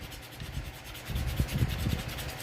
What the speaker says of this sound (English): this has a coating, a natural wax coating, because it's bamboo, and I just scrape where I'm going to tie